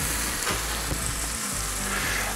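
Food sizzles loudly and steadily in a hot pan, a close, dense crackle with a few soft knocks and no talking.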